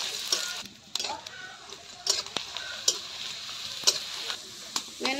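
Long-sliced onion fries in hot oil in a kadhai with a soft sizzle, punctuated by sharp scraping clicks of stirring at irregular intervals, close and fairly quiet.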